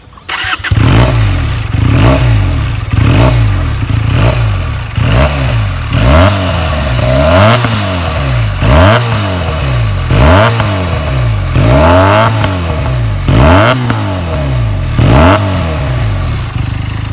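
Benelli 302R sports motorcycle exhaust revved repeatedly at standstill, a loud, close series of rising and falling throttle blips in a steady rhythm.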